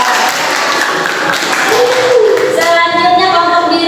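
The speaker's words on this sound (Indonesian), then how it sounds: "Oke, tepuk tangan." Students clap in a classroom during a group discussion lesson, a short burst of applause mixed with voices and cheering, loud and close.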